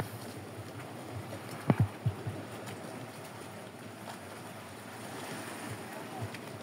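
Rough sea at Quezon Island, a steady wash of waves and wind noise with a few brief knocking thumps near the middle, fairly faint and continuous.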